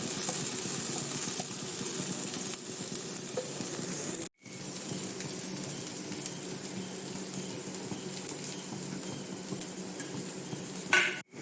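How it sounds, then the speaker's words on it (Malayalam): Thoran stir-fries uncovered in a pan, a steady close sizzle with stirring scrapes, broken by a brief silent gap midway and a clatter at the end. "അടച്ച് വയ്ക്കാതെ നമുക്ക് കുറച്ചുകൂടെ ഒന്ന് മൂപ്പിക്കണം"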